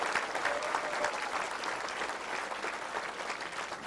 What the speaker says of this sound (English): Let's give all those folks, look at them, round of applause.